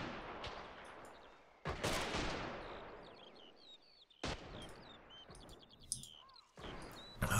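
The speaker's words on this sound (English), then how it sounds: "Wow, machine gun." Bursts of gunfire in a Valkyrie tournament video game match, loud broadband blasts in several separate volleys with chirping game effects and bird-like calls between them.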